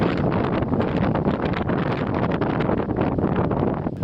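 Wind buffets hard across the bare summit of Noitatunturi fell in Lapland, a loud, constant roaring gust with rough flutter throughout, no voices heard.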